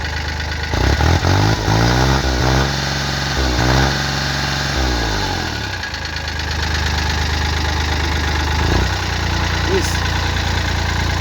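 A Kubota B2420 tractor engine running close by, a loud steady diesel idle with a few rhythmic revs and pitch sweeps early on, then settling into an even rumble.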